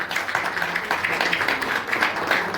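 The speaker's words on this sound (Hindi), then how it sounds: "आप सबके लिए एक बार जोरदार तालियां हो जाए" Audience at a franchise opportunity business expo in a hotel claps, a fairly close, even patter of hands that continues steadily throughout.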